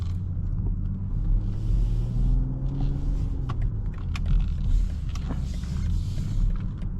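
A 2025 BMW X5 xDrive50e M Sport plug-in hybrid SUV accelerating on the road, heard from inside the cabin as a steady low rumble of engine and tyre noise that swells gently, with faint creaks and ticks over it.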